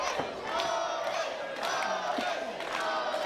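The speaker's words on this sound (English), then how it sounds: "Crowd rallying behind Otis here." A wrestling crowd at a CCW event roars and chants in support of the wrestler Otis, a dense wall of voices with rising whoops and yells swelling in waves throughout.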